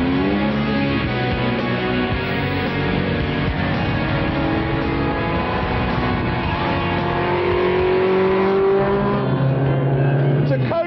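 A 1997 Mini with a 1.4 litre 16-valve twin-cam engine and straight cut gears revs hard and continuously, a loud, close engine note with whining gear sound, mixed with talking.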